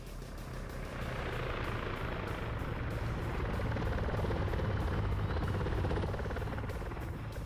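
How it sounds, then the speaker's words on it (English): A helicopter in a wargame PvP match, its rotor drone steady and loud throughout, a continuous low whir that fills the scene with no breaks. "I'm really surprised the tank didn't just snipe that helicopter."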